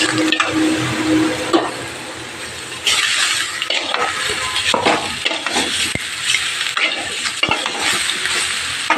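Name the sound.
cauliflower and eggplant frying in a pan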